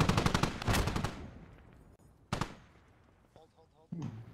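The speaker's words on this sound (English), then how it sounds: "Some volley fire coming in." Gunfire in the video game Squad: a loud burst of rapid shots opens, followed by a single sharp crack and scattered distant reports, with someone talking faintly underneath.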